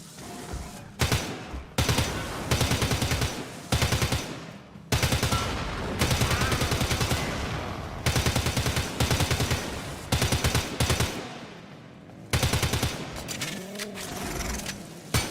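Video game gunfire comes in repeated loud bursts of rapid automatic shots, separated by short pauses, close and dominant throughout.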